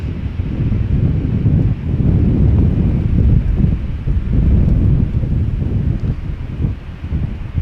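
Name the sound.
wind blowing outdoors at Amsterdam Schiphol Airport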